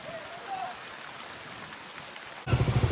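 Rain sets in at a village dam, a faint steady patter that suddenly swells into a louder, closer drumming of drops in the last half second.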